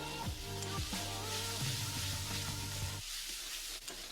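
Grated ginger, garlic and chopped green chillies sautéing in a pan, a steady close sizzle with a few stirring scrapes, easing off near the end.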